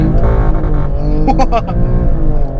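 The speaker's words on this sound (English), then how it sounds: "So it doesn't have launch control, so you just have to brake torque it" A 2018 Alfa Romeo Stelvio Quadrifoglio SUV launching hard from brake torque without launch control, its engine roaring loud and close with rising revs and a quick upshift, heard from inside the cabin.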